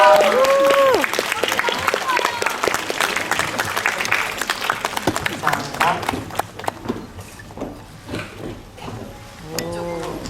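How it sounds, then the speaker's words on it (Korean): Audience applause at a live talk event for a Korean film, a burst of clapping with cheers and whoops, voices and crowd noise rising and falling, with a speaker's voice heard near the start and end. "여러분 뜨거운 박수 부탁드릴게요."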